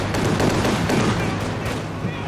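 Strafing run in the World War II strategy game Company of Heroes 2, a dense, continuous roar of rapid gunfire and booms filling the whole moment at steady loudness, with a commentator's voice partly mixed in.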